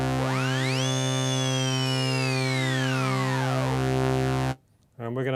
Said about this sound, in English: Now, macro 2, I'm going to play around with V-sync, which sounds like this.